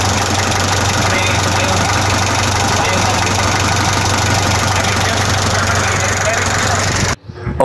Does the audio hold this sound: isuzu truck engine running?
yes